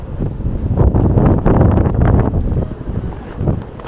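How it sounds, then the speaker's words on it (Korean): Strong wind buffets the microphone outdoors at a windy free market, a loud continuous roaring rumble with gusts swelling and easing across the whole stretch. "바람이 너무 많이 불어요."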